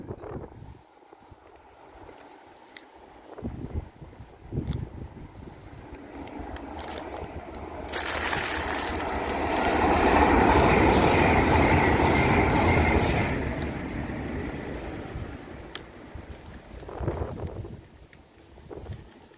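A TransPennine train passes on a country line, its roar building from a distant approach to a loud, broad rush and then fading as it moves away.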